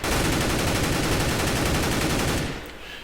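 Continuous rapid automatic gunfire rings out from a video game weapon fired with no recoil, one dense, loud, unbroken burst that cuts off sharply and fades out.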